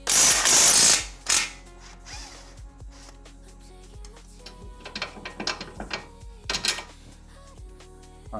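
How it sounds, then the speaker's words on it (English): A ratchet undoes the main coilover bolts on a car, giving bursts of rapid clicking between louder metallic clunks and rattles, close and clear with no talk. "Then undoing the main bolts."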